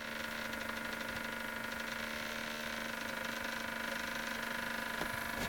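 A small electric motor driven by the field of a Slayer exciter coil spins fast, giving a steady, even whine with a buzzing tonal hum that holds constant throughout, close and fairly quiet with no talk.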